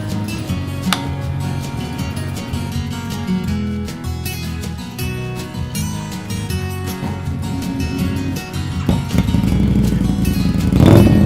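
A Harley-Davidson V-Rod motorcycle exhaust revs up and down repeatedly, a loud throaty roar rising in pitch and swelling to a final burst, close by with no talking.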